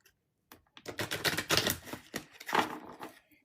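A rapid, papery riffling of tarot cards being shuffled up close, a continuous crisp flutter lasting about three seconds.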